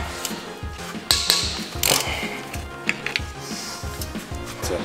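A ratchet loosening bolts on a taxi, heard as close, quick bursts of clicking pawl ratchet strokes with metallic clanks between them.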